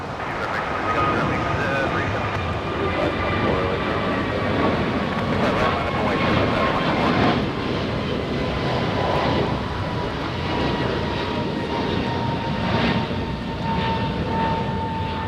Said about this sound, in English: This one is flight number 1695, aircraft type A321neo.